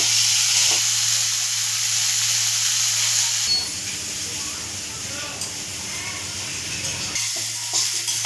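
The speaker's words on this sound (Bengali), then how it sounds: "পেঁয়াজ আর টমেটোটা আমার হালকা করে ভাজা হয়ে গেছে" Onion and tomato fry lightly in a pan, giving a hissing, steamy sizzle that runs continuously and shifts in texture midway.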